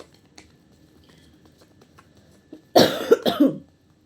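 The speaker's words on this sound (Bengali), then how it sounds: "এই কাশি মনে হয় আমার আর যাবে না" A single close, harsh cough burst near the end, breaking a near-silent stretch with faint background ticks.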